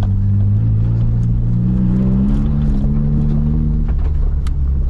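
A race car engine drones steadily and loudly close by, with a low rumbling tone that rises in pitch as it revs while driving, continuous for the whole stretch with no talking.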